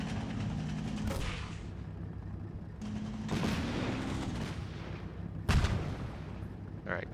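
Tank cannon and gunfire in the Combat Mission wargame, Downfall setting: a steady rumble of battle with several sharp, loud booms spread through the clip, the heaviest one near the end.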